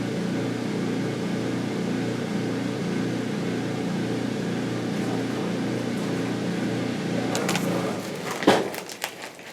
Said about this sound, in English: Sorry about the noise, that's our washer going.